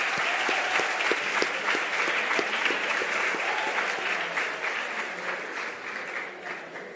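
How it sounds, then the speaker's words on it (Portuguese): Audience applause at a school event, a dense, steady clapping from a large crowd that holds at a fairly even level throughout before easing slightly toward the end. "Uma salva de palmas."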